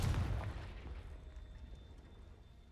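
A Confringo fire-blast spell from the game Hogwarts Legacy bursts in one deep boom at the start. The rumble fades over the next couple of seconds, and no voice is heard.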